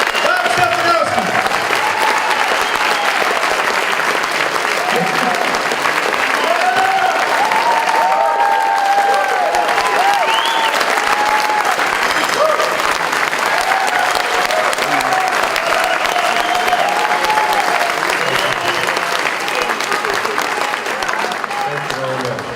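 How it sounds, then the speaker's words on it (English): Loud, sustained crowd clapping and cheering at a birthday party for a Connecticut politician, continuous for over twenty seconds with shouts and voices throughout. "Come on! Clap Stefanowski!"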